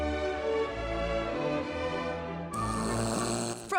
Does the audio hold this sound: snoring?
yes